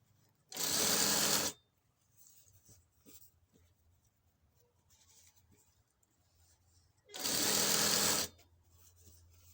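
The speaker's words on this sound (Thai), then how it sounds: "ค่อยๆใส่ยางยืดนะคะ รอบเอวเลย ค่อยๆเย็บ" Two short, loud bursts of a sewing machine stitching elastic into a trouser waistband, each about a second of fast needle chatter, separated by quiet rustling and handling of fabric, with no talking.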